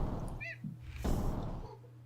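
A cat in King's Quest VI gives a single short, clear meow early on, followed by soft thuds and ambient game background, with no speech.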